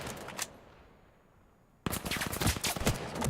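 Rifle fire in the VR shooter VAIL erupts after a quiet stretch, a dense loud run of rapid shots. A single earlier shot is heard near the start.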